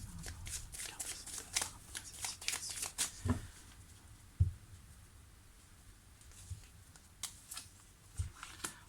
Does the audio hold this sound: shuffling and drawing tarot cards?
yes